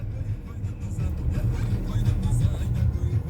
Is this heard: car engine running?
yes